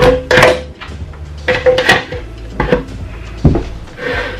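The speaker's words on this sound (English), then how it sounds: "I'll add the cucumber first inside the blender" Cucumber pieces drop and knock against a hard blender jar in a quick series of clunks and rattles, loud and close, with no talking.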